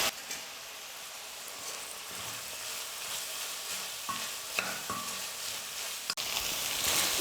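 Tomatoes with turmeric and salt sauté in a pan with a soft, constant frying sizzle, broken by a few faint stirring scrapes and taps, close and steady with no voices.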